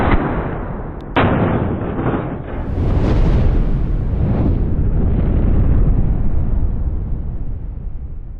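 A propane can hit by a shotgun slug bursts in a loud, close explosion, followed by a sharp crack and a long rolling roar that fades slowly over several seconds.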